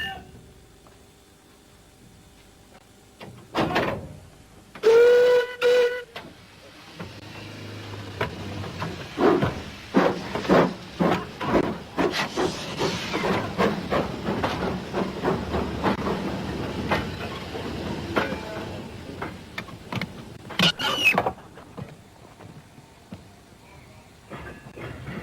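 A steam locomotive shunts freight wagons on a British line, with a sharp whistle blast early on, steady hissing steam, and repeated wagon clanks and buffer bangs through the middle, then a second whistle near the end.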